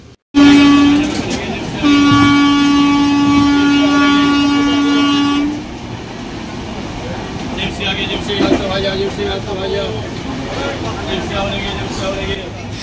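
The Howrah to Digha Kandari Express (22897) sounds a long, loud horn blast for about five seconds, then runs on with a steady rolling rumble and rattling wheel clicks.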